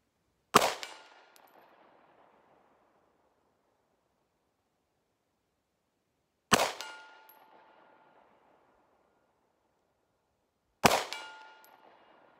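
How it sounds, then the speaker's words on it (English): Three sharp handgun shots ring out at an outdoor range with targets at 50 yards, spaced several seconds apart, each a loud crack followed by a long decaying echo and a faint metallic ring, with silence between. "So now that I know where this gun strikes at 50 yards, I gotta keep shooting."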